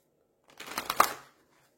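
A tarot card is drawn from a deck, giving a short, close papery slide and flick of cards lasting under a second against quiet surroundings, with no talking.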